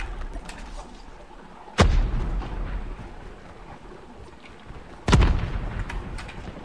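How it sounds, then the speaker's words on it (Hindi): Two loud, booming sniper shots in Call of Duty: Mobile, a few seconds apart, each with a sharp crack and a rumbling tail over steady game ambience. "कोई स्नाइप कर रहा है लेफ्ट से"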